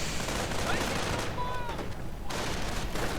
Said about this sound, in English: two Grenadier squads firing rather accurate Kar 98 K5 against them